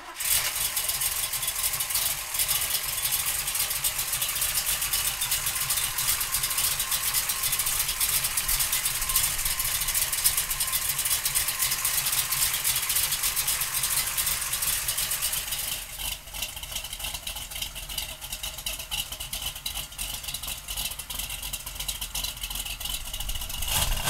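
A 1968 Chevrolet Camaro with a 427 V8 runs at a steady, loud idle throughout, its engine note continuous and close, shifting slightly in tone partway through.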